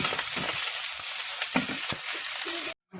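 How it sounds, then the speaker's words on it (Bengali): Taki fish frying in a wok with turmeric and salt give a steady, close sizzle with bursts of crackle and occasional stirring scrapes, cutting off abruptly near the end. "কড়াইতে টাকি মাছগুলো ভাজতে দিয়ে দিয়েছি।"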